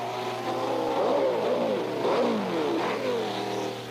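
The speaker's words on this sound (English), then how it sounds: "Chris Irwin coming into the pitch now." A 1967 race car at the Canadian Grand Prix circuit slows toward the pits, its engine blipping and revving in several rising and falling bursts, moderately distant and alone.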